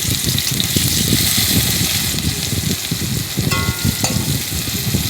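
Chopped onions fry in hot oil with whole garam masala spices, a loud continuous crackling sizzle filling the whole stretch, close up and steady, with faint stirring scrapes and no talking.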